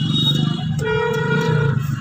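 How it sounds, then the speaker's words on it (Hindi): A car horn sounds amid heavy, crowded traffic while a car creeps along in first gear on half clutch, with a sustained tonal honk over a low engine rumble. "हॉर्न बजाओ"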